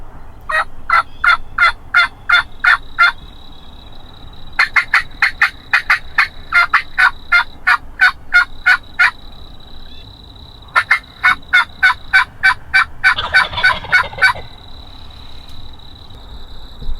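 Wild turkey jake gobbling outdoors during a Tennessee spring hunt, repeated rapid rattling gobble bursts in several runs with pauses between, fairly near and loud over steady low background noise.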